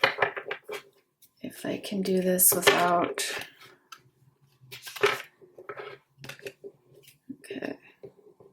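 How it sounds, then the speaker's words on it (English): Tarot cards being shuffled by hand, a few brief papery riffles and snaps between bursts of a woman's speech. "And then just shuffle these."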